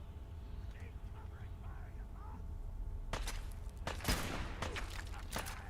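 Gunfire in Fallout 4 comes in as a few sharp shots partway through, after a quiet stretch of low game ambience with some faint chirping sounds.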